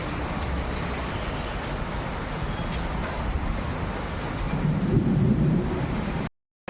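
Heavy rain pours steadily in a dense roar, with a low rumble of thunder building near the end before cutting off abruptly.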